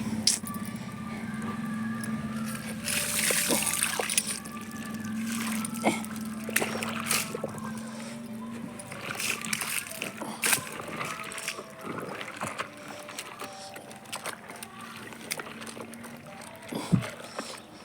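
Clothes pushed down and soaked in a tub of water at home, giving wet squelching, sloshing and small splashes in uneven bursts, close up, with a voice heard now and then.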